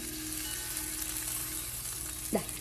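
Coconut, mustard seeds and urad dal crackle and sizzle in hot oil as a tempering for pumpkin and cowpea erissery, a steady frying hiss with one brief stir sound near the end.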